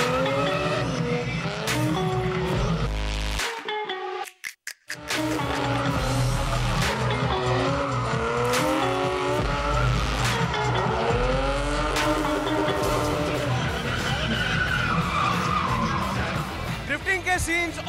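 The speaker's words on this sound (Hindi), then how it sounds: "मेरे पीछे आप देख सकते हैं क्या ही जबरदस्त महारत के साथ सारी ड्रिफ्टिंग हो रही है" Cars drifting at the Karachi Auto Fest, with loud, repeated tire squeals and revving engines nearby, broken by a brief near-silent gap, while someone talks over the noise.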